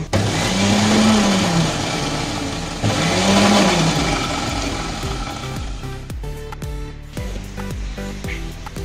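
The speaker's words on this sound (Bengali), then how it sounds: "ড্রাগন ফলটাকে আমি একটু ব্লেন্ড করে নিব" Dragon fruit whirs in a kitchen blender, a loud, steady grinding drone for about six seconds before the motor cuts out, followed by a few scattered clunks and clatters.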